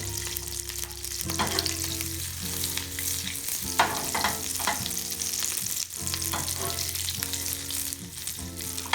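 Olive oil and butter sizzle steadily in a pan over good heat for an omelet, a continuous bright hiss with occasional spatters and clinks, while background music plays throughout.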